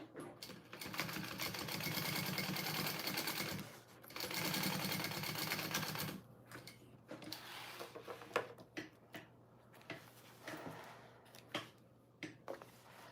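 A sewing machine bastes fabric for a mini backpack in two fast, loud running bursts of rapid stitching. Quieter clicks, fabric handling and short intermittent stitches follow.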